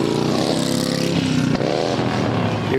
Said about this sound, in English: you've got a dozen very loud revving motorcycles